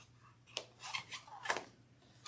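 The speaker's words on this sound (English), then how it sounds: "So I'm just trimming this down to be even with the piping." Fabric scissors trimming seam allowance along sewing piping, making a few quiet, close snips in a row with soft pauses between cuts.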